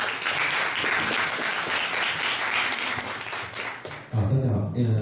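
A crowd at a small community self-introduction meetup applauds to welcome the next speaker, sustained clapping that breaks off near the end as a voice starts talking.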